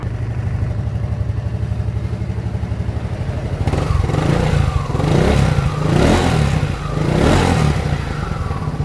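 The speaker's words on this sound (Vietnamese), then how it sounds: "Cái này chiếu là nổ máy cho cả nhà nghe đỡ đó." A 2016 Honda SH 300i scooter idles with a low steady drone, then its engine is revved in three rising bursts, each swelling and falling back, close by and loud, with no talk.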